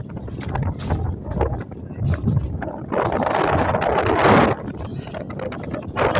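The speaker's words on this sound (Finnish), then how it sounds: "Tuulinen kohta." Gusty wind buffets the microphone, rising to a loud roaring rush midway before easing back to a steady blustery rumble.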